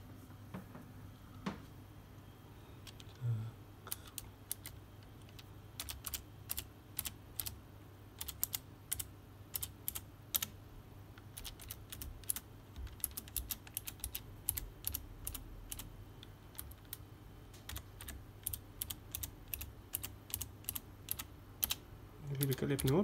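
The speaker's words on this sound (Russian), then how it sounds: "видеообзор на клавиатуру Razer Ornata R203-0204" Typing on a Razer Ornata R203-0204 gaming keyboard: bursts of quick, close key clicks in an uneven rhythm, with short pauses between runs, over faint room noise.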